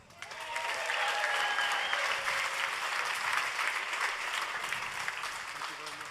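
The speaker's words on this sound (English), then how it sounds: "And please, a big applause for the fastest man on the road" An audience at the Bugatti Tourbillon hypercar unveiling in Molsheim, France, applauds with sustained, moderately distant clapping that rises quickly and holds steady, with brief whoops and voices blended into the sound.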